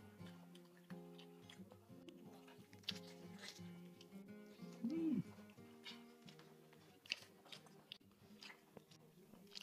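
Crunchy braised lamb head being chewed and bitten at a long-established halal restaurant, soft wet crunches and bites close up under ongoing talk and background music.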